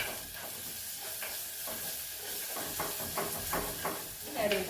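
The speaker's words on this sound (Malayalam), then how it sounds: "കറിവേപ്പിലയും കൂടി ഇടുകയാണ് കേട്ടോ" Curry leaves hit hot oil in a pan and set off a steady, close hiss and crackle that lasts throughout, with faint stirring.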